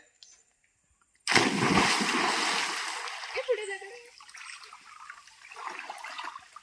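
Water surges and splashes loudly as a person wades into a deep natural pool, then settles into smaller sloshing while voices talk nearby.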